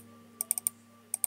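Computer keyboard keys clicking during a Cubecraft gaming session: a few quick close taps in a short burst, a brief pause, then two more taps, alone with no talk.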